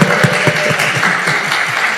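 Congregation at a Korean church service in Greater Washington applauding, a steady wash of many hands clapping at moderate distance, continuous for the full stretch without pauses.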